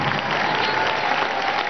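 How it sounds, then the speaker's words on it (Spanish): Sustained applause from a large graduation audience in an indoor arena, steady dense clapping throughout with a faint crowd murmur, no voices standing out. "Vamos a darle un gran aplauso a la familia"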